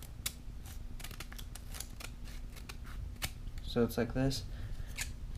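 Scissors trimming a folded piece of paper, a run of quick crisp snips close by, with someone talking briefly over the cutting.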